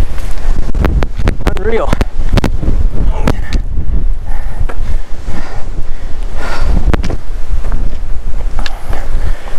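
Strong wind gusts batter the microphone high on Guadalupe Peak, loud continuous roaring buffeting throughout, with someone speaking briefly over it.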